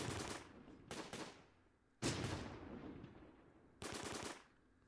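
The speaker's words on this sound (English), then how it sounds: "Sherman can see him through the hedgerow, gets a first shot" A Sherman tank fires on a Panzer in the World War II game Close Combat: Gateway to Caen, with four sharp, loud blasts, each trailing off into a rattling decay, and no talk.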